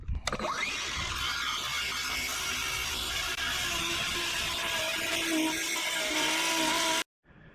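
A power tool cuts wood trim for a drawbridge build, a loud continuous whine with a brief start-up at the beginning and a sudden stop near the end.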